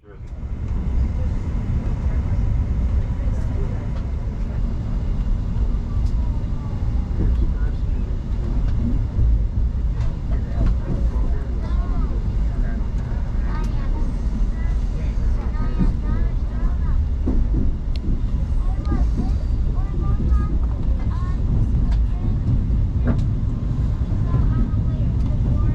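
A steady, unbroken rumble fills the cabin of a moving Amtrak Acela high-speed train, with a deep low roar and faint rattles and clicks running over it throughout.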